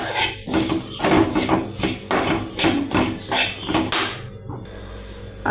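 Grated coconut being roasted in a clay pot for fish curry, with a spoon scraping and knocking against the pot in a steady, repeated rhythm of loud, close scrapes and taps, no talking.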